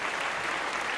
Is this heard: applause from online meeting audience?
yes